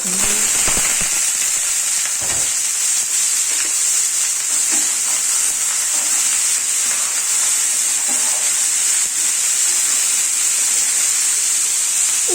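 Cauliflower hits hot mustard oil in a pan, setting off a loud, dense crackle and hiss that runs steadily throughout with scattered sharp pops.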